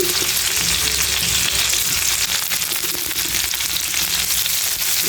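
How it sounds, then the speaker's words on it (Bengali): Raw onion and bay leaf fry in hot mustard oil, a dense, loud, continuous sizzle with light crackling throughout, close up and with no talking. "সরিষার তেল গরম করে তার মধ্যে তেজপাতা দিয়ে দিলাম কাঁচা পেঁয়াজ দিয়ে দিলাম"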